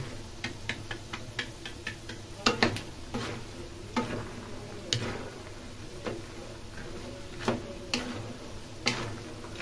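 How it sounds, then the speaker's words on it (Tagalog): Peanuts fry in a pan of oil with a soft continuous sizzle, scattered ticks and occasional scraping stirs, fairly quiet and close. "Ganyan lang po pagluluto ng ano, pritong mani."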